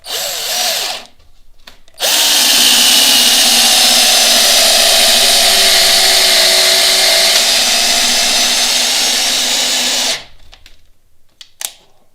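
A Parkside PABS 20-Li D4 cordless drill drives a huge 10 mm screw into knotty wood, whining loudly and continuously for about eight seconds, with shorter bursts of spinning before and after.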